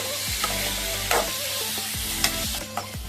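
Chicken frying in a pan for dhaba-style lemon chicken, with a loud steady sizzle and several scraping stirs of a spoon against the metal, close up and with no voices.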